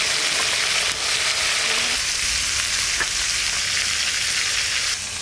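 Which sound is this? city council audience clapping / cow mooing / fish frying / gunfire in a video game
fish frying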